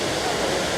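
An autumn waterfall in Karuizawa, Japan roars in a steady, broadband wash of falling water, loud and unbroken, heard from nearby.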